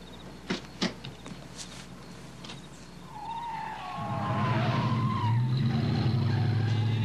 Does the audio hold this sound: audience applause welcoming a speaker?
no